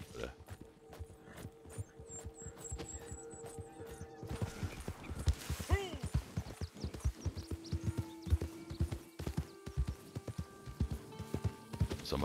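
Hooves of a saddled, riderless horse in Red Dead Redemption 2 Online clip-clopping at a steady pace with faint creaking and background ambience, the rhythmic steps continuing throughout.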